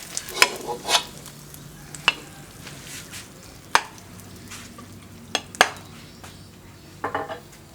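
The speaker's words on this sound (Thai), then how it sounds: "เราผัดประมาณเท่านี้ครับ" Noodles stir-fried in garlic oil in a pan, with scattered sharp scrapes and clinks of a utensil against the pan over a faint sizzle, close and alone without talk.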